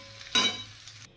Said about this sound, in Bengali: এটা এবার একটু ফ্রাই করি